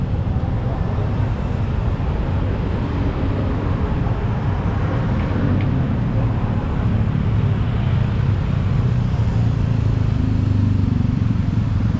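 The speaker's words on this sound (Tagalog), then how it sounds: "traffic." Steady street traffic on Archbishop Reyes Street in Cebu, near Ayala Center, rumbles continuously as a dense wash of passing cars and motorcycles, loud and close, with no talking.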